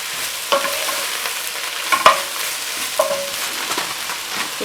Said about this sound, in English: I'm just cooking the spinach for about 3 minutes